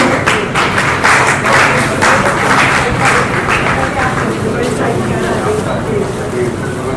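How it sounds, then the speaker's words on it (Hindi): Audience applause fills a hall in Delhi during an annual poetry gathering, a dense, steady roll of clapping held for the whole stretch with a crowd murmur and talk mixed underneath. "तालियां बजती रहनी चाहिए।"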